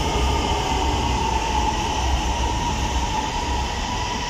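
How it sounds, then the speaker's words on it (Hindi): A Lahore Orange Line metro train arrives at a station with a steady loud rumbling roar and a faint high whine throughout, nearby and unbroken, with no voices heard. "ट्रेन आ गई है लेकिन ये दूसरी साइड पे जाने वाली है"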